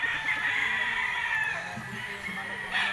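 Rooster crowing at a gamecock farm where pure white Kelso birds are kept, a sustained loud crow over the clucking and chatter of other chickens nearby, no voices.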